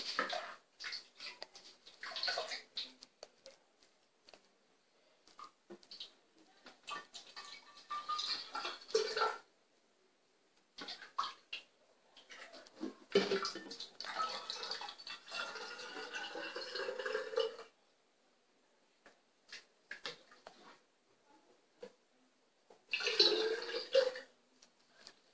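Homemade kiwi juice ladled and poured, giving intermittent liquid splashing and trickling with pauses between pours, moderately close and without talk.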